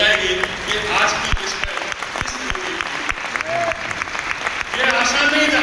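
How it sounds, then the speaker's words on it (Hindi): An audience at a company's 25th anniversary program claps steadily, a dense sustained applause with scattered sharper claps, loud and close while someone speaks over it. "आज आपकी तालियां बजाएगी"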